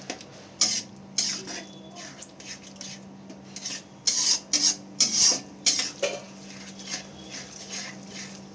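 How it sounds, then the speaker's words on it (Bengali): A spatula scrapes and stirs sauces through veg chow mein in a pan, repeated rasping strokes in uneven bursts with quiet gaps between them, over a steady low kitchen hum. "এবার সব কিছু সসগুলো ভালো করে একসাথে মিশিয়ে নেব"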